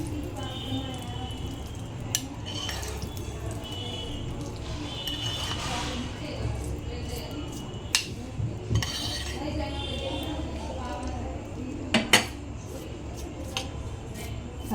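A spoon clinks and scrapes against a pan while spreading hot tempering over soft sweet corn dhokla, with sharp metallic taps scattered under ongoing talk.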